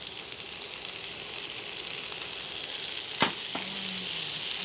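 Corn kernels go into a hot pan already holding black beans, setting off a steady, close sizzle that carries through the whole stretch, with a sharp clatter of the pour and then continued frying crackle, no voices.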